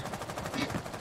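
Gunfire shot into the sky in a video game: a quick automatic burst over about a second, moderately loud and dense, with faint voices underneath.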